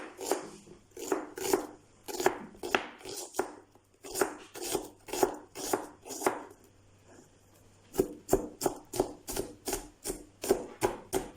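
Onion being chopped on a board for a rice soffritto, bursts of quick, crisp knife strikes in uneven runs with short pauses, close by, while a voice talks intermittently.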